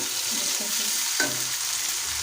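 Fresh unboiled peas fry in garlic-ginger paste in a pan, a steady close sizzle with stirring scrapes and a brief clink partway through, no voices.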